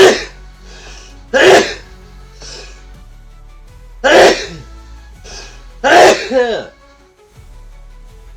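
A person sneezes several times close to the microphone. Loud, explosive bursts are spaced a second or two apart, with quieter breathy sounds and throat noises in between.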